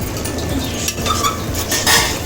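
A utensil stirs tomato rice ingredients in a pot with close, busy scraping and clinking against the metal, continuous over a low kitchen background.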